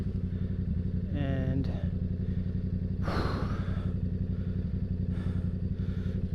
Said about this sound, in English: First time highway ride, Yamaha R7.